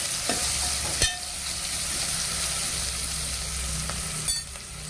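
Steady sizzling of okra and carrots frying in a pan, with a couple of sharp clanks from a spatula against the pan.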